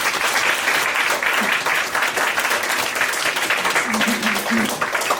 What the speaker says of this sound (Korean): 축하의 박수 좀 부탁드리겠습니다.